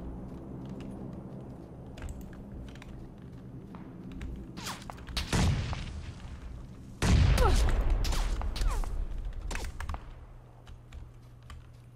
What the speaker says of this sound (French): Ça canarde, hein.